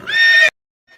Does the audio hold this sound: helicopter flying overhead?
no